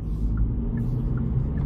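A 2025 Hyundai i20 with a 1-litre three-cylinder engine in sport mode gives a steady, low engine rumble heard from the cabin while driving, with faint periodic higher tones above it and no talk.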